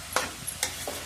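Ridge gourd and tomatoes fry in a pan over a soft sizzle, broken by three or four sharp scraping stirs of a spoon against the pan.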